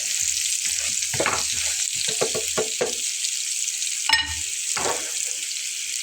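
Vegetables fry in oil for a vegetarian potato and pointed gourd dish, a steady close sizzle broken by bursts of stirring scrapes and clatter from a spatula against the pan.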